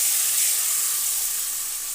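Ground flat bean paste sizzling in a hot pan with chopped onion and garlic, a loud steady hiss of frying with no voices.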